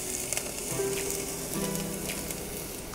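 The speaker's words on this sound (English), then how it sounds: "We need to oil the pan first, and then we'll throw our garlic in. Followed by ginger." Garlic and ginger fry in an oiled pan, giving a steady close sizzle that holds unbroken for about three seconds with no voices over it.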